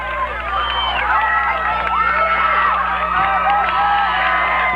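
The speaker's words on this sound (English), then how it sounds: "You can hear the players cheering as they come off the field." Football players from the ULS side cheer and whoop as they come off the field after a win over Wesleyan, a lively babble of shouting voices at close range that holds steady throughout.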